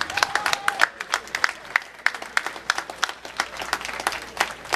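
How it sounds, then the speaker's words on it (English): An audience at a PlanetSide 2 gaming tournament applauds, a dense spread of quick claps at steady volume continuing throughout. "Everybody, hands together for your competitors and for everybody that competed in the tourney."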